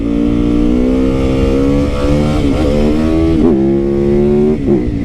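Motorcycle accelerating on the road, a loud close engine revving up steadily with rising pitch and short breaks where it shifts gears, no talk over it.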